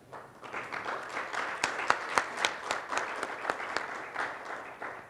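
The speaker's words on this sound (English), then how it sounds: "I want you to give a round of applause because it was great." A round of applause from the audience at a multi-stakeholder policy dialogue, with moderately close clapping that builds quickly and carries distinct individual claps within the steady patter.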